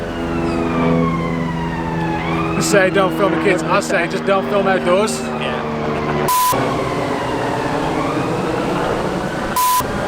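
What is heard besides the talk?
emergency vehicle sirens in city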